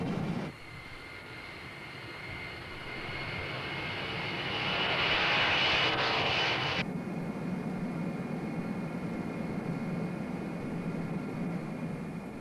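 Fixed-wing aircraft engines roaring during a takeoff run, a steady loud broadband drone that swells to a peak partway through, then drops slightly and holds at a sustained high level, with no voices.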